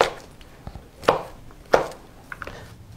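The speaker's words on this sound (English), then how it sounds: "finishing up cutting up these potatoes" A knife cuts potatoes on a cutting board, giving three or four distinct, sharp chops spaced unevenly apart, close and clear with no talking.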